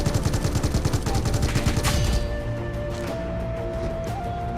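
Rapid automatic gunfire in a battle royale mobile game, dense bursts of shots for about two seconds, loud and close, then fading into quieter game ambience with occasional distant pops.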